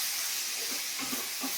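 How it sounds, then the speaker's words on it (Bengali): Mixed vegetables with beans and capsicum sizzle in a pan for a puffed-rice fry, a steady close hiss that cuts off abruptly at the end. "এগুলো একটু ভাজি ভাজি হোক"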